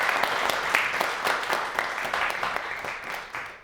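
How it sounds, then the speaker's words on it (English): Sustained audience applause fills the room at a year-end celebration event, a dense, steady wash of many hands clapping at close range with a few sharper individual claps standing out. "I'm trying to clap with my phone in my hand."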